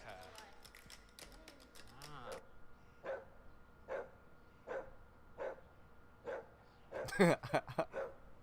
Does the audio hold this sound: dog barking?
yes